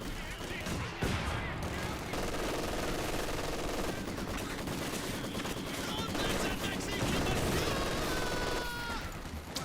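An enemy machine gun in the World War II strategy video game Company of Heroes 2 rattles in dense, continuous bursts amid a loud, busy battle soundscape.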